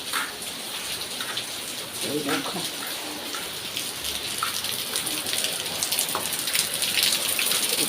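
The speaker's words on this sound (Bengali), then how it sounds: "আজকে সকালবেলাও বৃষ্টি হচ্ছে, তোমাদেরকে একটু দেখাই।" Steady rain patters outside with scattered drips, a constant wash of sound, while a voice speaks briefly.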